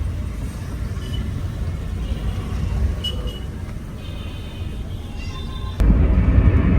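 A car drives along a road through Bogura toward Dhaka, Bangladesh, with a steady broadband engine and road rumble that grows noticeably louder and heavier near the end.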